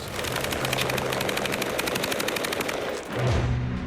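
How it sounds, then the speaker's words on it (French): A light machine gun fires a sustained rapid automatic burst, dense evenly spaced shots for about three seconds, then a brief pause and a low engine-like drone. "Son feu automatique soutenu tient l'adversaire à distance"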